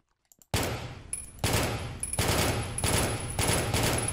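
Rapid bursts of automatic gunfire in a Minecraft Battlefield mod zombie-apocalypse battle, several loud sustained volleys separated by brief pauses, with no talk over them.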